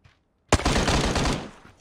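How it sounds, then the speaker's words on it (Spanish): A single quick burst of rapid automatic gunfire in PUBG Mobile, loud and close, following a short silence. "¿Dónde dispara ese?"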